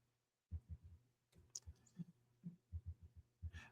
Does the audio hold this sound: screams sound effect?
no